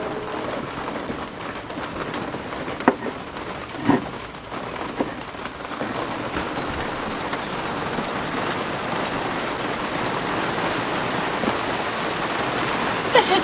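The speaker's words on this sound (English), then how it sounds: "Oh, this rain is bothering the mess out of me." Steady rain pours outdoors during car repair work on a Honda, a dense continuous wash with a few close knocks and taps near the start.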